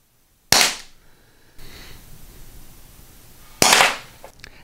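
Umarex HDP 50 Compact CO2 air pistol fires two sharp, loud cracks about three seconds apart, each with a brief decaying tail over quiet room noise.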